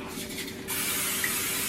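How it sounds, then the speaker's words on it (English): Non-stick cooking spray hisses onto a non-stick skillet in a kitchen, a steady close broadband spray starting partway through and continuing to the end over faint low background hum. "we're gonna spray our non-stick skillet"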